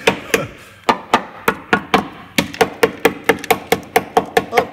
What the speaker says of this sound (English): I know you're not supposed to use a hammer like this on an MOT test